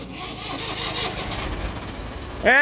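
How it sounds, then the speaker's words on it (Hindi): A tractor engine runs steadily with a rotavator attached, a continuous rough mechanical drone close by, ending with a brief rising engine whine as it revs. "तो काम चल रहा पूरा, ट्रैक्टर रूटावेटर चला रखे।"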